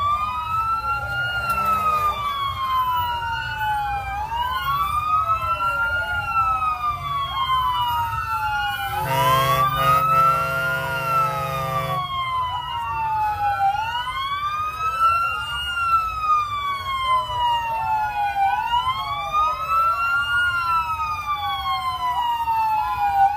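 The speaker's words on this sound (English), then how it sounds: "Siren's always quite loud." Several fire and emergency vehicle sirens wail at once in a Christmas parade in New Castle, Pennsylvania, in overlapping rising and falling sweeps, with a brief horn blast midway over a steady crowd and engine rumble.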